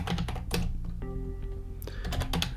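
Rapid clatter of keys as code is typed on a computer keyboard for a Flutter barcode scanner app, close and fairly loud, briefly broken by a sustained tonal hum in the middle.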